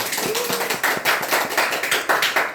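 Korean congregation clapping at a New Year's Eve church service, a loud, close, rhythmic run of claps in a steady beat, several hands in unison, with no talking.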